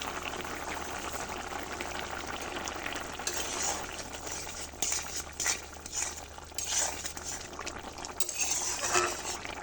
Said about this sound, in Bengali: ভাজা জিরাটা দিয়ে একটু নেড়ে চেড়েই নামিয়ে নেবো চুলা থেকে